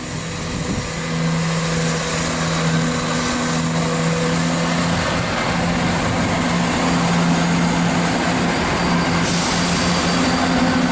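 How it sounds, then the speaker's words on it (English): Chiltern Railways diesel unit 168217 passing through Leamington Spa station, a steady engine drone with a low tonal hum that builds slightly and holds for about eleven seconds, no voices. "Right now we see Chiltern Railways 168217 going via Banbury and Beaconsfield to London Marylebone."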